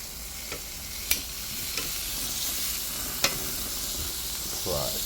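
Residue and marinade burning off a hot barbecue grill after cooking T-bone steak, a continuous sizzling hiss with a few sharp crackles and ticks, heard close with no talking.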